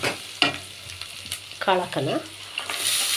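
Chopped onion sizzles in a pan of hot oil for field bean upma, a continuous frying hiss with occasional spatula scrapes, and a voice briefly speaking over it.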